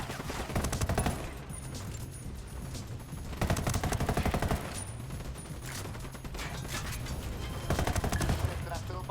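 Heavy automatic gunfire from the video game Ghost Recon Wildlands rattles in dense, overlapping bursts, with brief lulls near two and six seconds before volleys resume, loud and sustained throughout.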